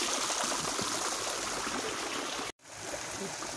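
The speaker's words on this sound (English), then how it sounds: "this is the beautiful spring water" Steady rushing of flowing spring water in a botanical garden in Germany's Black Forest, close and constant, briefly cut by a short gap before continuing.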